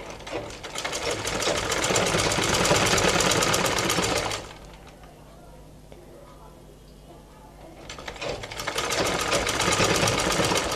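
A sewing machine stitches along a blouse hook strip in two long, steady runs, a pause with quieter handling noises between them, alongside some talk.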